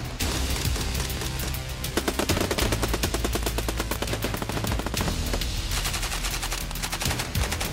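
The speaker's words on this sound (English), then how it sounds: "an exhausted student accidentally squeezes a trigger and fires on the enemy" Gunfire erupting during a military training exercise in the field, rapid bursts of automatic weapons and overlapping rifle shots crackling continuously for several seconds, loud and close with no talk.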